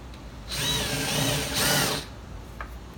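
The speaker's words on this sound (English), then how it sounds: "Now it's very easy for us to do a pilot drill, a pilot hole." A power drill whirs in two short bursts while drilling a pilot hole, rising and settling in pitch as it bites into material, with quiet room noise between.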